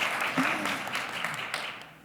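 An audience applauds a panel being introduced, with a short burst of dense clapping that fades slightly toward the end, and a voice faintly audible underneath.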